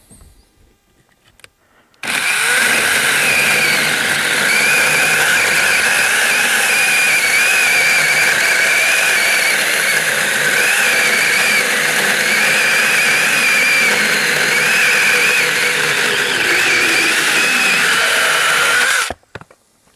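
A SainLogic 6-inch battery mini chainsaw cuts through a log with a loud, continuous high-pitched whine of the motor and chain, running steadily for about seventeen seconds before stopping abruptly.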